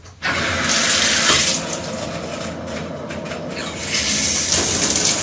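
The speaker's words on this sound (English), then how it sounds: "Watch the faucet." A strong, steady rush of water from a shower faucet with a new shower head starts abruptly and keeps flowing without a break, hissing loudly and close by.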